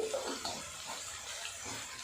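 Water is poured into a pan of spiced besan tikki mixture while it cooks. A faint, steady splashing trickle runs through the whole short stretch.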